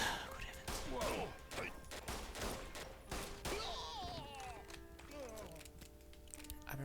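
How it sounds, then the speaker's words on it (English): Magnum revolver gunshots in the video game Eat Lead, a quick run of sharp, loud blasts in the first half, followed by clattering effects and in-game voices. "He survived 2 shots from Magnum."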